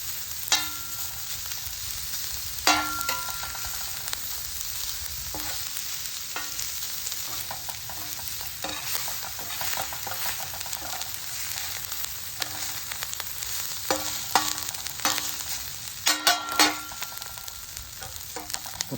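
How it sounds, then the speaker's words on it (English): Rice sizzles and pops steadily in hot fat on a discada while cooking for steak fajitas, with occasional sharp scraping and stirring clatters of a utensil against the metal disc. "Get that rice frying."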